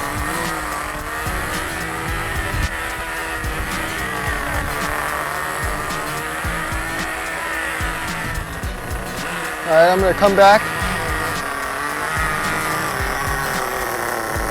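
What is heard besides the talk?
nitro RC car engine running during break-in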